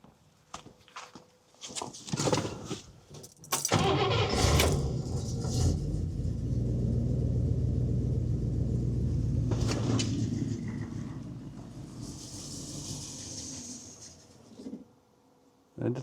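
A 1961 Buick engine cranks and tries to start after a dose of ether, with a brief burst, then a sustained rumbling churn of several seconds that fades out, and faint voices around it.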